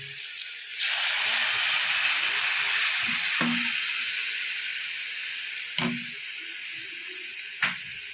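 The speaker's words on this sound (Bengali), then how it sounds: "এবার আমি বেটে রাখা মশলাটা দিয়ে দেবো" Ground cumin spice paste hits hot oil with fried potatoes for a Bengali egg curry, setting off a loud, steady sizzle that runs continuously, broken by a few sharp clinks of stirring.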